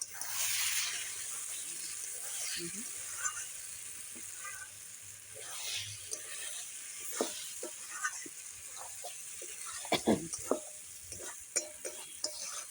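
Chicken masala fries in oil in a pan with a continuous sizzle and hiss, broken by scraping stirring strokes and sharp spatters throughout.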